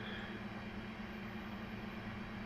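A train on the Birmingham Cross City Line in Train Simulator 2021 runs with a steady low engine hum and rolling rumble. It holds the same level throughout, faint and continuous.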